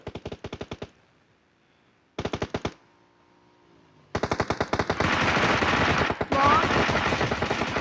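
Automatic gunfire in PUBG Mobile rattles in rapid bursts separated by short pauses, then turns into a sustained, dense barrage of loud, close shots.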